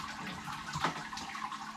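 Wort drains from the mash during home-brewing of a Belgian dubbel, giving a soft, steady trickle and wash of liquid, close and continuous with no voices.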